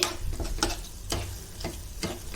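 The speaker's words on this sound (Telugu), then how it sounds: "ఇప్పుడు ఉలు పచ్చడి వేద్దామండి ఇందులో కలుపుకుందామండి" Horse gram chutney being stirred in a pan, with irregular scraping and tapping strokes of the spoon over a faint sizzle, close and fairly quiet.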